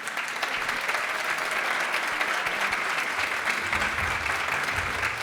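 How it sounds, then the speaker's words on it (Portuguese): Steady applause from an audience for Sérgio, dense and continuous clapping at moderate distance that holds evenly throughout with no gaps. "Uma salva de palmas para o Sérgio."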